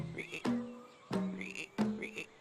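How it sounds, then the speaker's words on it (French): A frog croaks in three distinct calls spaced roughly half a second apart, close and fairly clear against a quiet background. "la grenouille qui fait trop de bruit"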